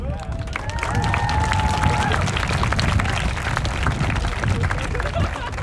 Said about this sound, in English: Alumni, if you just kind of wave, clap, make some noise.